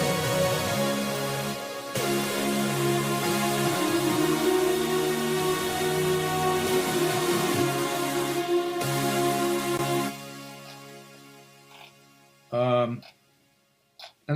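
A sustained synth lead built from an Omnisphere patch layered with a Nexus patch plays a bright, harmonically rich melodic line with gliding notes for about ten seconds, then fades into quieter, sparse sounds with a couple of brief bursts near the end.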